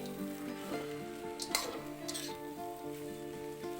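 Poha being stirred in a pan, giving a soft sizzle with scraping stir strokes and a few sharper clinks of the spoon against the pan, close by with no talking.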